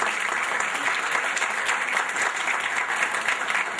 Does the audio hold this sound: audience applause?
yes